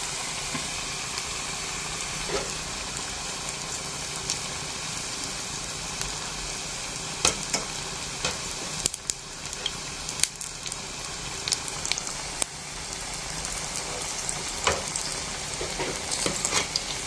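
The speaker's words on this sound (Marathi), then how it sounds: "गाईज बघू शकता किती लाल लाल झाले एकदम मस्त तळे येतं कमी तेलावरती." Aloo tikki shallow frying in a little oil in a pan, a steady close sizzle and hiss throughout with occasional sharper crackles and spatters, no talking.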